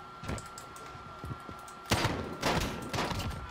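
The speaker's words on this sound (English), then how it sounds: "someone's fucking burst shooting" Burst gunfire from a firearm in the video game Modern Warfare Warzone, with a few light clicks followed by several loud, broadband bursts of rapid shots close by, with no talk.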